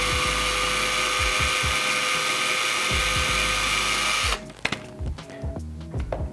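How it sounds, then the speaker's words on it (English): A power drill bores a small hole into the balsa of an RC plane, running loud and steady with a high whine for several seconds, then stopping abruptly, followed by scattered clicks and handling noises. "And then I'm going to take a drill bit and ever so slightly drill me a hole."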